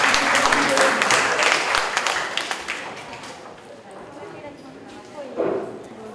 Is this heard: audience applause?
yes